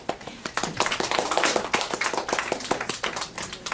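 Small audience at a talk gives scattered applause, individual claps sharp and distinct rather than merged into a roar, fairly close.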